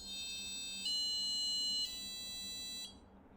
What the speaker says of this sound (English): it will actually sound the buzzer